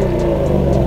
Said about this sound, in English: we can go from a very quiet, grumbly, quiet mode all the way up to the full Borla Atak wide open in sport